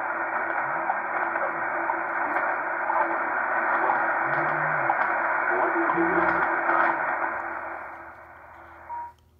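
A WWV 15 MHz time signal tone heard through a Collins KWM-2A receiver at high volume: a steady radio tone with broad shortwave hiss runs for about nine seconds, with faint low beeping ticks, before fading out.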